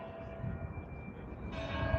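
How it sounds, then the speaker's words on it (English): A bell rings at Red Square in Moscow, a sustained metallic tone that swells midway, heard over low, rumbling city background noise. "Ooh, the bell."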